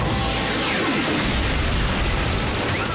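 Cartoon battle effects from a Transformers: Prime episode give dense, continuous booms and bursts of gunfire and explosions, loud and sustained throughout without speech.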